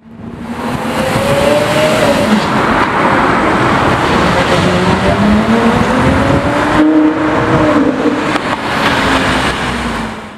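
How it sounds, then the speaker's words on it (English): A Porsche Carrera GT supercar pulls away on a city street, its loud engine rising and falling in pitch through gear changes before fading near the end. "Okay guys, the CGT is leaving."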